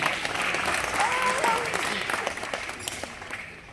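An audience applauds at a magic show in a memorial hall, a dense sustained clapping that trails off toward the end, with voices faintly heard underneath.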